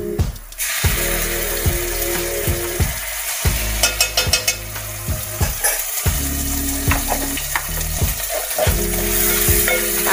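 Spices fry in hot oil in a pan for a spicy Malvani-style chicken masala before ginger garlic paste goes in. A steady close sizzle is broken by regular rhythmic stirring strokes, with no voices.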